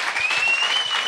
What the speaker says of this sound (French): j'aimerais ça qu'on donne une bonne main d'applaudissement à Yann.